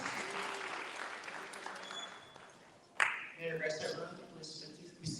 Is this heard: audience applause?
yes